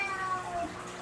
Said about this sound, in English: And there's my cat again.